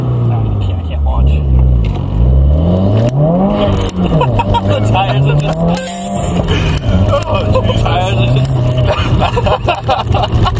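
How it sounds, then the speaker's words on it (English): A 2015 Subaru WRX engine revving hard as its tires spin in grass, the pitch rising and falling in loud waves, with voices talking and a dog barking nearby throughout. "The tires are just spinning."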